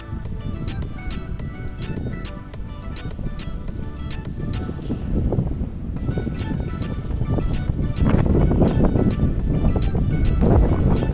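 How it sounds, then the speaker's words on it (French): Strong stormy wind on Santa Giulia beach near Porto-Vecchio, Corsica, roars and buffets the microphone continuously, with rough broadband rumble and crashing surf-like noise throughout. "C'est la tempête aujourd'hui."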